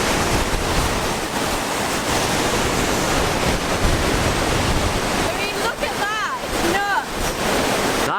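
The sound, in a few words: powerful waterfall in Norway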